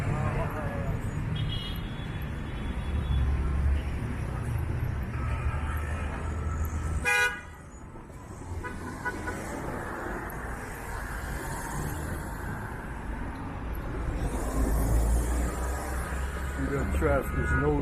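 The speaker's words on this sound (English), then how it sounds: "Traffic is no joke out here." Busy city traffic in Santiago, Dominican Republic, with a steady roar of engines and several car horns tooting at intervals, one sharp honk standing out midway before the traffic din swells again; a voice speaks faintly beneath.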